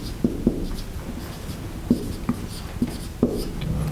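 Chalk tapping and scratching on a board as a lecturer writes equations, six or so sharp close taps spaced irregularly with faint scraping between them and no talk.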